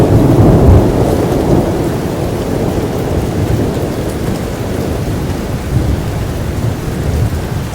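Heavy rain pours steadily in Liechtenstein, a dense, loud wash of falling water with a deep rumbling low end, constant and unbroken with no voices.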